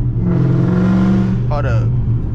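A 2019 Dodge Charger R/T Widebody's engine rumbles loudly and steadily with the windows down, then revs sharply upward near the end.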